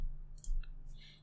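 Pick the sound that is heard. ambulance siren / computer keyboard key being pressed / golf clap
computer keyboard key being pressed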